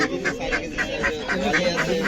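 Ducks at a riverside fish market during a Bhogali Bihu bazaar, giving a rapid series of about nine evenly spaced nasal quacks close by, over a low murmur of market noise.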